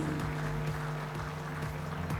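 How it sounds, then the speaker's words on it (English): An audience at an international conference session in a hotel applauds, producing a steady, dense wash of clapping over a low, constant background hum. "Loud round of applause"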